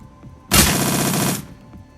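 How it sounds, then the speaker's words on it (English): A grenade launcher fires in the Shadowrun: Dragonfall video game, a loud dense burst of rapid repeated shots lasting about a second, rising sharply out of quiet and cutting off cleanly, with no voices. "Got a grenade launcher."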